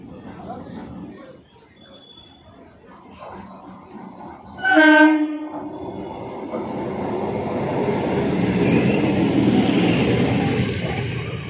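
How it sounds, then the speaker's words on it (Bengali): A local train approaches a station with a short horn blast, then a rising, rumbling roar of carriages rolling past, with faint chatter in the background. "নামখানা লোকাল শিয়ালদা থেকে আসছে"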